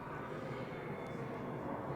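A fixed-wing airplane flies over near Monterey airport, a broad steady engine roar that stays faint and constant throughout with no voices.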